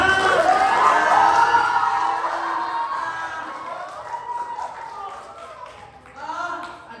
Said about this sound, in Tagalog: Isa naman po malakas na hiyawan at palakpakan dyan!